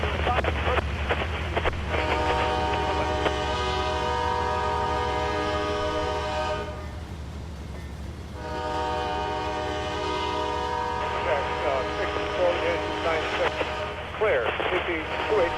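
A CSX freight train in Trainz Railroad Simulator 2019 rumbles along the main line, a steady engine drone with layered tonal horn-like harmonics that cut out briefly mid-way, loud and continuous.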